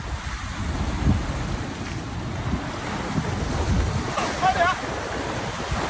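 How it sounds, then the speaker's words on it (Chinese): Strong wind and big waves at the seashore form a loud, constant roar of surf and buffeting wind on the microphone, with a voice shouting briefly over it. "哇，今天风浪太大了"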